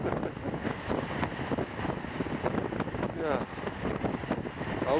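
Icy wind buffets the microphone on a mountain ridge above a hut in the Malá Fatra, a steady loud roar of gusts throughout with faint speech underneath.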